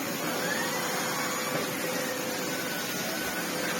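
A Sebo C2 Total vacuum cleaner with a mildly broken head runs at high suction, producing a steady, loud, close rushing roar of airflow that holds unchanged throughout, with no talking.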